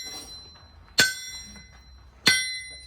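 A hammer strikes a horseshoe on an anvil while forging, two separate bright ringing clangs about a second apart, each decaying quickly over a quiet background.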